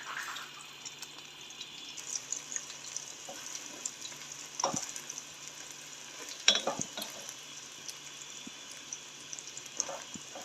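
Eggs cooking in a pan for fried rice, a faint continuous sizzle with occasional clinks and scrapes of a utensil, quiet and close.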